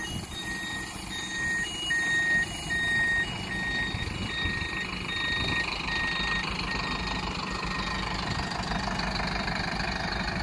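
A bus reversing alarm beeps in an even, regular rhythm over the steady rumble of an idling diesel engine while the bus manoeuvres in a garage yard after cleaning.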